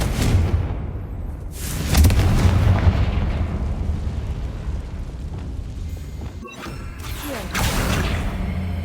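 Confringo fire spell blasts in Hogwarts Legacy, loud booming explosions with whooshing bursts, one heavy impact early, another near two seconds and a sharper crack later, over continuous rumbling game ambience.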